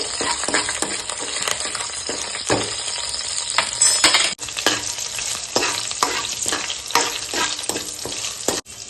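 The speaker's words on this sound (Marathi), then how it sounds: "मी मिरच्या टाकते, मिरच्या टाकून व्यवस्थित ढवळते।" Green chilies in hot tempering oil are stirred in a pan for a raw banana curry, giving a loud continuous sizzle with frequent close spatula scrapes and clinks against the pan.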